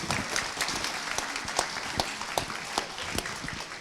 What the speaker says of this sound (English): students, give yourselves a round of applause